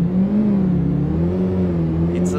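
Car engine in the City Car Driving simulator game, revving steadily as the accelerator is pressed, a continuous close mid-pitched drone with slowly shifting pitch, while someone talks over it.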